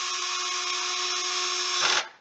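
A handheld power drill whirs steadily at a set torque while driving cylinder head bolts, a loud continuous motor whine that rises briefly before cutting off near the end.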